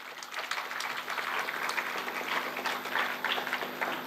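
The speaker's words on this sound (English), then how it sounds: "Shall we give him a round of applause?" An audience at a university governance talk on health and wellbeing breaks into applause, a full, even patter of many clapping hands held steady and fairly loud throughout.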